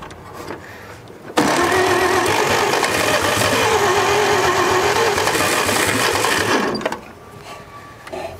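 An abandoned old truck's engine cranks over for about five seconds with a steady, rapid mechanical churn, loud and close, then stops; quiet surroundings before and after, no talk.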